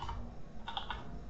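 Computer keyboard typing in a quiet room, a short cluster of light clicking keystrokes that becomes denser toward the end, close and fairly soft.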